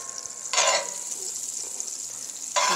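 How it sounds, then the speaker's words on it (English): Butter sizzles in a hot skillet with a steady high hiss, and two louder bursts of crackle and stirring jump out over it, close and clear. "got the skillet going with a little butter"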